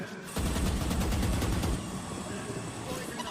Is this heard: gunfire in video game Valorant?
yes